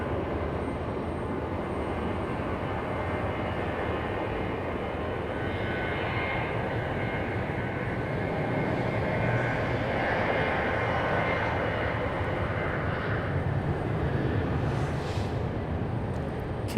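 An Alaska Airlines airliner at Raleigh-Durham airport produces a steady, moderate jet engine rumble with a soft high whine, heard from some distance without voices.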